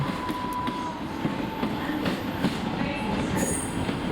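South Western Railway train pulling out of Exeter St David's toward the Red Cow level crossing, a loud close steady rumble of wheels and coaches with a high squeal near the end.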